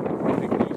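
Strong wind buffeting a microphone on a raft, a steady low rumbling roar filling the short moment with no voice on top.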